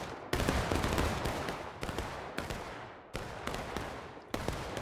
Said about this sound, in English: We're doing volleys until told otherwise.